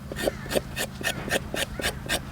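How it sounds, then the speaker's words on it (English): A knife's dull back edge scrapes the peel off a carrot outdoors at a campsite, giving about eight rhythmic rasping strokes at an even pace, close and fairly quiet, over a low background hum. "Instead of the sharp side, you take the dull side and you just scrape it."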